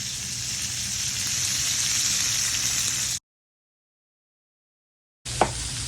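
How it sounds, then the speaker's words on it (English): Steaks sear in a hot pan with a steady, loud sizzle and crackle. The sizzle cuts out to silence and then returns. "So we're pan searing these steaks"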